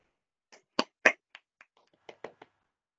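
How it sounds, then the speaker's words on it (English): A small, scattered round of applause for Edith: a handful of separate hand claps, close and fairly quiet, with uneven gaps between them and no voices. "let's give Edith a round of applause"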